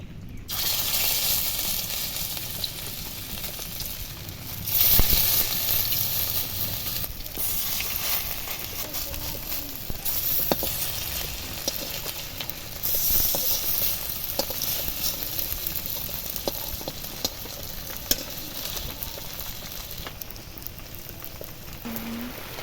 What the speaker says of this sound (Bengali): এবার আমি এই বড়াগুলো চপের আকারে গড়ে দিয়ে দেব